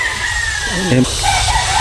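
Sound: rooster crowing

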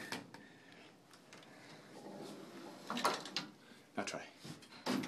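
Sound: elevator door being pushed shut

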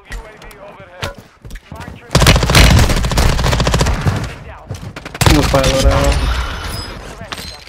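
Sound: grenade launchers shooting in a video game

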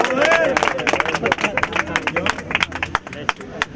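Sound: audience applause at rap battle

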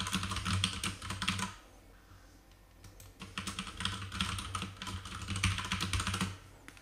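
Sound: typing on a computer keyboard

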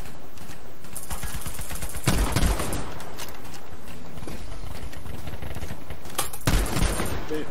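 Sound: rapid shotgun fire in the video game Battlefield V

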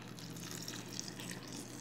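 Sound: water being poured into a container

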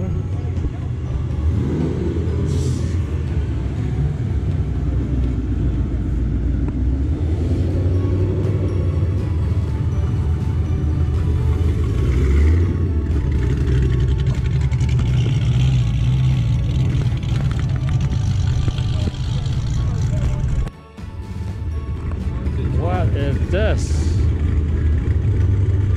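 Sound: Mustang cars driving past at a car show

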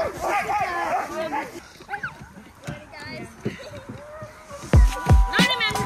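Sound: huskies barking

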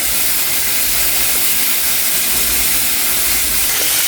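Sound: pork chop frying in butter

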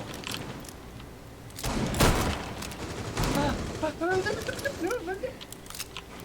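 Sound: gunfire hitting the player in a video game

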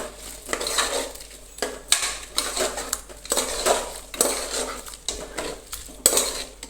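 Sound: stirring rice dish in a pot

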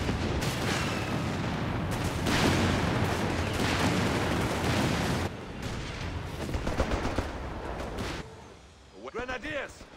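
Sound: Stuka aircraft strafing gunfire in video game Company of Heroes 3

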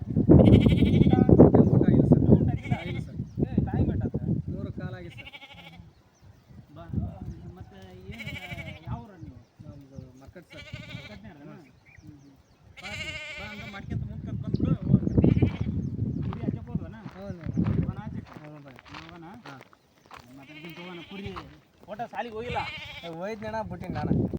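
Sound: sheep bleating in a flock

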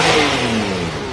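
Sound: Ford Mustang engine revving

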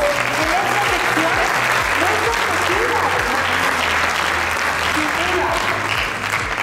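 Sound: audience applause

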